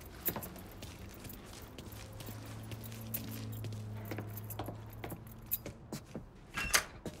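Keys jangling as they are grabbed in the video game Mafia III, a short metallic rattle over soft footsteps and background game ambience, with no talk.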